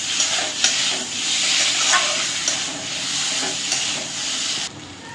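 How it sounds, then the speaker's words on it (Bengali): Spice masala with turmeric powder sautéing in oil for a hilsa fish and kochu (taro) curry, a steady close sizzle and hiss with occasional stirring scrapes, continuous for about five seconds before cutting off near the end. "এবার ভালো করে কষিয়ে নেব।"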